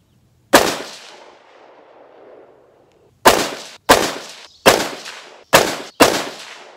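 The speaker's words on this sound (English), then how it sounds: "Okay, so got done here shooting." Springfield Saint Edge ATC Elite rifle firing test loads outdoors: one loud shot with a long rolling echo, a pause, then five sharp shots in fairly quick succession, each trailing a short decay.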